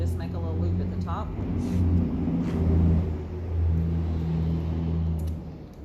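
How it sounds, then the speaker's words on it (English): Trucks cruise through a town street, a low, steady engine rumble with droning harmonics that swells and eases across the clip, with faint voices in the background. "Got some trucks cruising through town."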